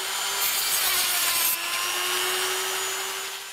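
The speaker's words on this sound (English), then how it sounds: "use either a file or a Dremel sanding tool just to take those edges down" A file or Dremel sanding tool takes down the edges of a drilled hole in a terrain piece, making a steady, close abrasive rasp that runs the whole time with a slight dip midway.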